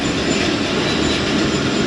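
Jaffar Express passenger train rolling along a single-line track between Lahore and Rawalpindi, a steady loud broadband rumble of wheels and carriages, close by and continuous.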